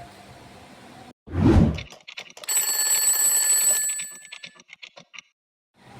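A quiz game timer sounds in a classroom setting: a sharp whoosh, then a ringing, bell-like alarm with stuttering clicks that tapers off and stops.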